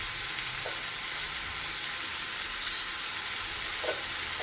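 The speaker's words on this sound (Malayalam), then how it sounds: "ഇത് നന്നായി വഴറ്റി ചേർത്ത് ഈ തക്കാളി ഇതിൽ കിടന്ന് നന്നായി വഴട്ടെ." Tomato masala with chilli powder, turmeric and salt sautéing in a pan, a continuous loud sizzle with a couple of faint stirring knocks.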